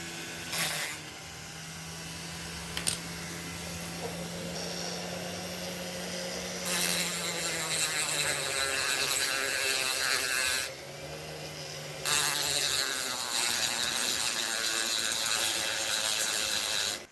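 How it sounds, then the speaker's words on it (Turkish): A motorized sanding tool whirs in bursts, grinding against a helmet with a rasping, mechanical buzz that starts and stops several times. "Şu an bunu zımparalıyorum. Şuradaki görmüş olduğunuz aletle yapacağım bunu."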